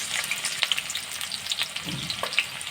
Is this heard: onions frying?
yes